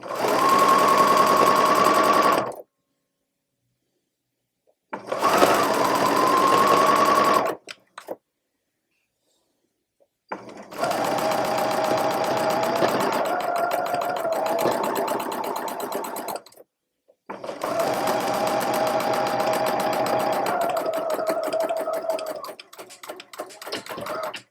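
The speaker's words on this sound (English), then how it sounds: "I generally sew this like an 1/8 of an inch from the edge" A sewing machine stitches fabric for a grocery bag holder about an eighth of an inch from the edge, running in four loud bursts of rapid, buzzing stitching separated by silent pauses.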